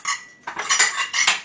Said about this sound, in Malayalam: അതൊന്ന് എടുത്തു വെക്കാൻ വേണ്ടി നമ്മളൊരു പാത്രം എടുത്തു